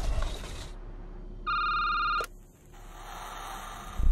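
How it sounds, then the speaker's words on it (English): An electronic telephone bell rings once in a video game, a short bright trill over quiet background hum, followed by a click. "Hold on, the phone's ringing again."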